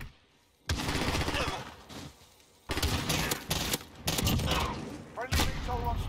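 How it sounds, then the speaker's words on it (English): Dense bursts of gunfire in the Modern Warfare video game with a gold FR 5.56 rifle, loud, rapid volleys broken by short pauses, with a voice talking over parts of the shooting. "he shot me in the back of the head"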